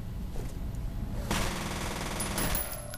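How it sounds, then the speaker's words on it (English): A submachine gun in the video game F.E.A.R. fires short three-round bursts, loud and close, two clusters of rapid shots standing out over a steady layer of game ambience. "I really don't like this SMG. When you click, it fires off like 3 rounds."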